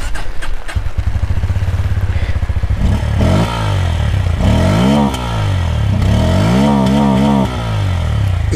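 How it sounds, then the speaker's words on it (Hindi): Close, loud exhaust note from a Bajaj Pulsar N160 motorcycle with a short exhaust, a steady idle giving way to several sharp revs that rise and fall in pitch. "इसके एग्जॉस्ट की बात करें तो काफ़ी ज़्यादा छोटा एग्जॉस्ट इसमें दिया हुआ है और साउंड भी काफ़ी ज़्यादा सही है इसका"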